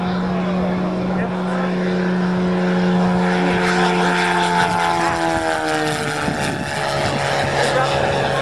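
An aircraft making a strafing run, a loud continuous propeller-engine drone whose pitch slides and shifts as it passes, with voices talking over it.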